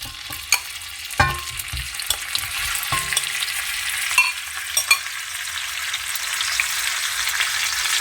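Veal sizzling in hot olive oil in a wok over high heat, a steady crackling fry with a few sharp clatters of stirring, close and loud.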